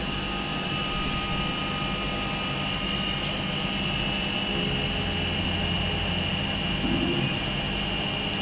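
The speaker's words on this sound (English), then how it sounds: "we're going to turn the machine on because the controller needs to be live for me to send a file through to it" A Chinese laser engraver bought on eBay sits powered on, giving off a steady, even electrical hum with faint static that continues unchanged for the whole stretch.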